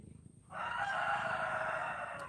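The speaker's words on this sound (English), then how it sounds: "You can't probably hear over the ducks and the roosters and everything else." Farmyard roosters crowing with ducks nearby, a loud sustained crow rising suddenly after a brief quieter stretch and holding to the end, close to the listener.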